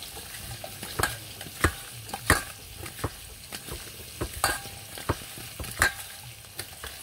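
Small fish frying in a pan, one batch after another, as a low steady sizzle with sharp scraping and clacking strokes from a utensil every second or so, close by, with no one speaking.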